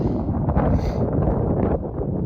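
Strong, cold gusting wind on a mountain summit buffets the microphone in a loud, continuous low rumble, rising and falling slightly with no voices.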